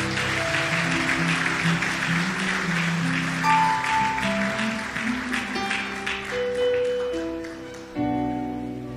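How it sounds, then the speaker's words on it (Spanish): A church congregation applauding steadily throughout, with music playing underneath the clapping. "Dele un fuerte aplauso a Dios."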